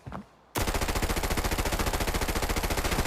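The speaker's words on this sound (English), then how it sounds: "Now I'm gonna be shooting at these dummies over here." After a brief quiet moment, an MPX gun in the video game Arena Breakout opens up in a long continuous burst of rapid, evenly spaced automatic shots, loud and close, aimed at training dummies.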